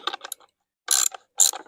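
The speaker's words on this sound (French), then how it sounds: "Je vais mettre un petit coup de cliquet pour bien le serrer." A ratchet tightens a garden irrigation hydrant fitting in three short bursts of rapid clicking, close and clear, with a silent pause between the first and second bursts.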